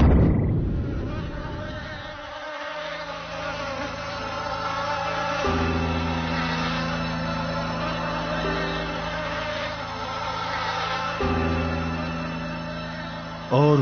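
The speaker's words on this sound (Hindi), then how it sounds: "और इस बार मधुमक्खियों का झुंड आया।" A swarm of bees buzzing in a dense, continuous drone that swells and steadies, with a low mechanical hum beneath it.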